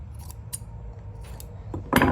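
Scissors snip through a loose end of macrame cord while trimming a handmade yarn gnome, a few faint close cuts followed by one louder crisp snip at the end.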